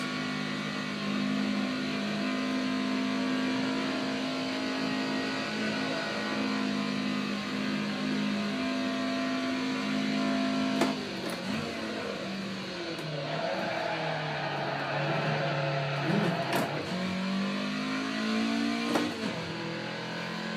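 An AE86 engine in a sim racing game at the Nürburgring drones steadily and loudly throughout, its pitch dipping and climbing with sharp rev changes around the latter half, with no talking over it.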